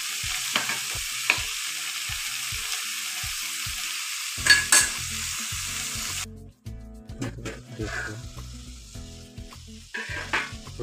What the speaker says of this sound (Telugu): ఇందాక చేసి పెట్టుకున్న బీనీస్ మంచిగా వేగాలండి